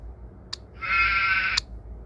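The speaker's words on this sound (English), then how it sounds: "Sheep." A sheep bleats once in a kids' farm animal app, a single drawn-out, wavering bleat of about a second, loud and close, with short chime-like tones just before and after it.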